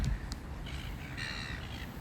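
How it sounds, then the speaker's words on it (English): Unseen crows caw from a distance, a few faint, scattered calls over quiet outdoor background hiss, with no one speaking. "Oh, there's all these birds there, but I can't see them."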